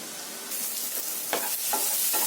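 Egg curry cooking in a pan for a Kerala-style coconut milk dish, a steady soft sizzle broken by several brief scraping stirs, close and moderately loud with no talking.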